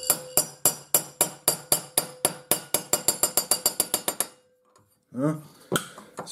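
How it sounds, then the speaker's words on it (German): A small hammer taps a sheet metal fold in a quick, steady run of sharp ringing strikes, about twenty in four seconds, then a pause before a few more taps and clanks. "Dann nehmen wir noch das Hämmerchen."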